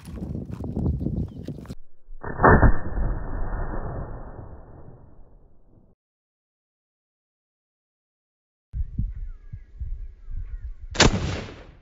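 A shotgun and 5.56 and .22 rifles fire at old hard drives. Several loud, sharp reports sound at close range, with long decaying echoes, a stretch of silence, then more blasts.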